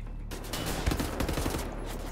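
Enemy gunfire rattles at the player in the shooter Wolfenstein: The New Order, a dense fusillade of rapid shots with low booming impacts, loud and continuous for about two seconds with no talking.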